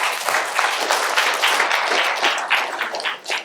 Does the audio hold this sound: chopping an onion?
no